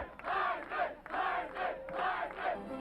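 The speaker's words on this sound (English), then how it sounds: "and that left the crowd chanting Heisman." A football crowd in a stadium chants "Heisman" in unison, three rhythmic two-part chants that rise and fall at a steady pace, loud voices blended from a distance.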